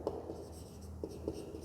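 Pen or marker writing on paper while a maths problem on shares and dividends is worked out, with a few faint scratchy strokes in a quiet room and no talking.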